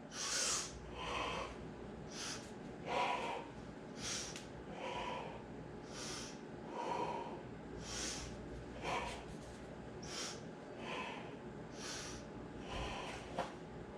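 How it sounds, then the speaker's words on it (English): Rhythmic breathing exercise, a steady series of sharp nasal inhales and forceful exhales repeating roughly every second, close and fairly quiet with no talking. "Notice how I'm combining my breath."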